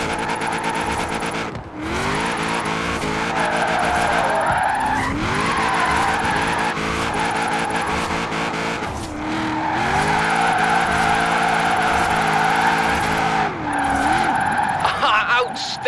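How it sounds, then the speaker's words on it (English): Continuous tyre squeal from a car drifting in the racing game Forza Horizon 4, with long wavering screeches and engine revving that dip briefly between slides, loud and sustained for the whole stretch. "Now let's really shred those tyres."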